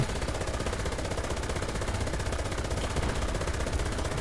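Dense, continuous machine gun fire in the tank combat game War Thunder, a rapid unbroken stream of shots at steady loudness with no pauses.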